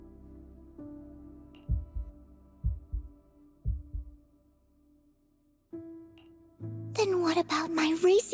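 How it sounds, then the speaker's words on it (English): A racing heartbeat sound effect gives a series of deep, booming double thumps in quick succession over a low hum, then fades. A loud, wavering tonal sound rises near the end. "Then what about my racing heartbeat?"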